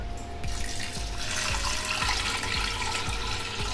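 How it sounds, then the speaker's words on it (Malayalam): Water pours steadily into a pressure cooker holding beetroot, a continuous close splashing rush with faint rhythmic low thumps throughout, no voices. "അപ്പൊ 500 ml വെള്ളം കൂടെ നമ്മൾ ഇട്ടു"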